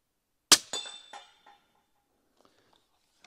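A suppressed B&T 300 SPR rifle fires once and the bullet strikes a target: a sharp, quiet crack followed within a fraction of a second by a ringing metallic clang that fades, with a few faint ticks afterward.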